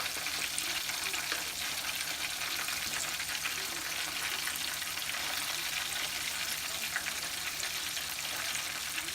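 Whiting fish frying in hot oil gives a steady, dense sizzle that hisses on without pause, close and even throughout with no voices.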